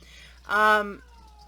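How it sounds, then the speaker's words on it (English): A distressed cat lets out one loud, drawn-out, wavering meow close by, about half a second long, with quiet on either side. "my cat is freaking out"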